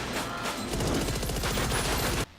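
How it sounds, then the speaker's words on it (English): A dense burst of gunfire from a gunfight scene in the film Joshua Tree (Army of One): rapid overlapping shots rattling loudly in a continuous volley for about two seconds before cutting off abruptly. "and that gunfight"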